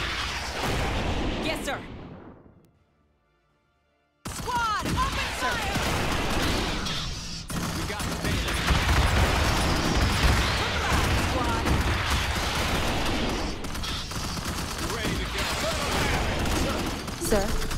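Squad rifle fire and heavy battle noise in Starship Troopers: Terran Command, a dense continuous barrage after a brief silence, with a short spoken reply near the start.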